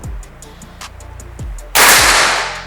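A PCP air rifle shot: a sharp crack rings out, followed by a louder burst of hiss that slowly fades; earlier, faint clicks and low thumps come before it.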